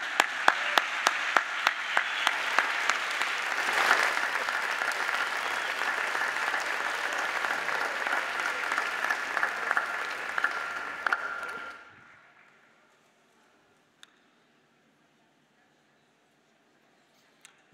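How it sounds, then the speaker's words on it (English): Warm audience applause at a ceremony for a jazz quintet, sustained crowd clapping for about twelve seconds that cuts off abruptly, leaving near silence with a couple of faint clicks. "I'd like to ask you to join me in giving a warm round of applause for the Brian Sand"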